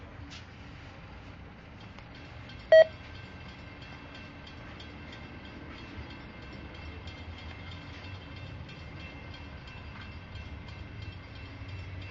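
A CSX freight train pulls into Plant City, Florida, a low steady rumble of rolling cars building slowly under a distant hum, with one sharp brief tone near the start.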